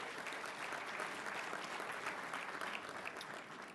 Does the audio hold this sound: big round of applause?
yes